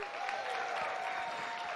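Audience at an honours gala clapping for nominees, a soft, continuous patter of many hands heard at a distance, with a faint steady tone running underneath.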